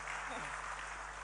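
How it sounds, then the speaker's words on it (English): An audience at a live Ghanaian morning television broadcast gives the panel a brief burst of dense, even applause, with a low electrical hum beneath it. "Please, a big round of applause for our panel."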